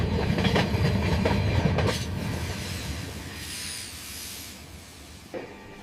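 A freight train carrying ship engine parts rolls past with a rumbling clickety-clack of wheels and a hiss, loud at first and then fading, with a sharp clank near the end.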